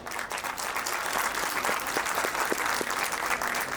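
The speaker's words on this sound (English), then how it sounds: "I therefore humbly request all of you to give them a big round of applause" Steady, even applause from an audience at a junior school annual day event, honouring teachers and students, dense clapping that holds at one level throughout with no voices over it.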